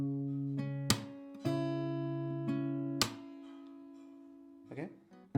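Fingerstyle acoustic guitar for a Hindi song sounds strums across the third and second strings, each paired with a percussive slap; sharp attacks ring out and decay, played close with no talking.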